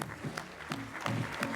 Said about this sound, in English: Let's have a nice round of applause for Miss Youn of Korea